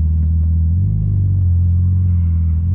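Deep, loud exhaust rumble from a Porsche GT2 RS, a steady close-up low growl with slight rises in pitch throughout.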